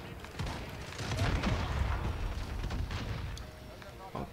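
MK2 rifle firing in Call of Duty Modern Warfare, a dense run of game gunshots and booms over a low rumble, steady through the clip with a brief louder crack near the end; a voice may talk faintly underneath.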